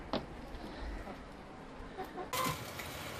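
Hens in a muddy backyard run cluck and fuss intermittently, a small flock of five heard close by, with a louder burst of squawking near the end.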